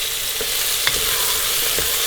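Curry leaves and onions frying in a pan of hot oil for a meat and lauki curry, a steady close sizzle with a few light stirring taps, no voices.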